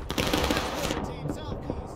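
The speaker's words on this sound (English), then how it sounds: "They're gonna volley!" A ragged musket volley in the War of Rights battle game crackles as a dense, rolling burst of many gunshots at once, with voices shouting over the firing.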